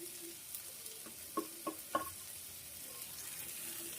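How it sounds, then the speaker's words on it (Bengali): Masala with ginger and garlic frying in a pan gives a soft, steady sizzle, with a few brief stirring scrapes standing out over the quiet hiss. "এই যে সব দিয়ে মশলাটা ভালো করে কষিয়ে নেব"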